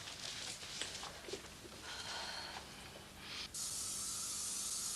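Steady spraying hiss from a neighbouring room, starting in short bursts and then turning into one loud continuous spray that runs to the end, with muffled movement beneath it.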